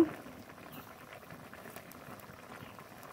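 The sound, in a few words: chorchori (Bengali vegetable dish) boiling in the pan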